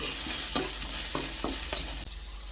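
Spinach stir-fried in a pan with curry leaves, shallots, garlic and green chilli gives a loud continuous sizzle, with repeated scraping strokes of a spoon close by and no talking.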